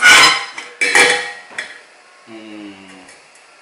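A metal Primus Eta pot clatters onto the pot support of a camping stove, two sharp metallic knocks followed by lighter rattles and a faint ringing tail, close and loud with no talk.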